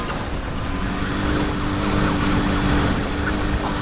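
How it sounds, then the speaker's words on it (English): Police sirens in the racing video game Need for Speed Heat, wailing steadily over continuous car engine and road noise, loud and close throughout, with no talking. "Flip on the sirens and get after them."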